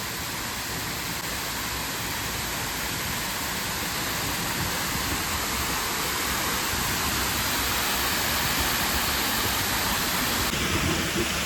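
Water flowing in a pond on the Vancouver seawall, a dense, steady rushing splash like a small waterfall that continues close and loud without talk.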